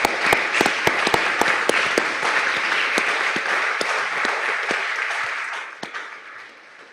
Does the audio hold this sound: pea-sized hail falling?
no